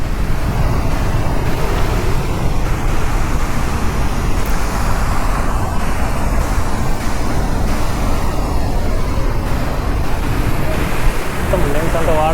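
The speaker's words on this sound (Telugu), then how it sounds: "వాటర్ అయితే ఫుల్గా చిందుతుంది." Water at Hogenakkal waterfall rushes and splashes in a loud, unbroken roar that fills the whole stretch, with some wind buffeting.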